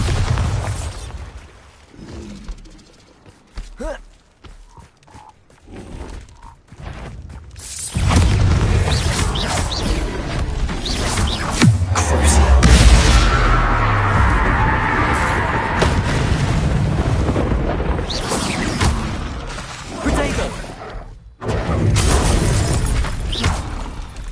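Bombarda spell blasts in Hogwarts Legacy, a series of booming, crashing explosions with debris and rumble building over sustained loud game combat noise, with sharp bursts and a brief quiet gap near the end.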